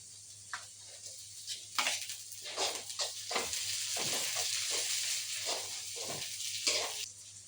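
Sliced onions sauté in a hot pan for a squid roast, sizzling and crackling steadily with bursts of louder frying as they are stirred, fairly close and heard alone.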